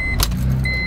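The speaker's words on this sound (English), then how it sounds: "put your key in the ignition, and turn the key all the way while your left foot is still fully pressed down on the clutch" A manual-transmission car's engine starting with the ignition key turned and the clutch held down, with a brief key or starter clatter over a steady engine rumble; a close, continuous sound with no talk.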